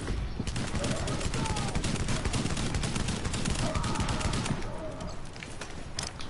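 Dense automatic gunfire rattles on in The Division, loud and nearly continuous, with a slight easing toward the end.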